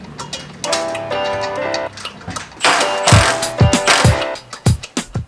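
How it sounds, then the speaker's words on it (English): A lag bolt is driven into the side of a 2x4 in a garage, giving a run of fast mechanical ratcheting clicks followed by sharper irregular knocks and taps, close and fairly loud with no talk. "I'm just gonna put a lag bolt into the side of the 2x4 and then hang it on the hook"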